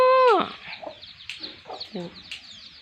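A fighting rooster clucks and squawks close by, a loud opening call followed by several shorter clucks, with faint background noise.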